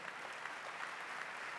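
Steady applause from an audience at a Vendée cycling event, a dense, even patter of many hands clapping at moderate distance with no pauses, kept up throughout the short stretch.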